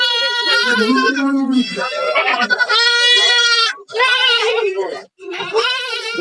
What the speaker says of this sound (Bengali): এই যে এখানে পাশে আরো অনেক ছাগল রয়েছে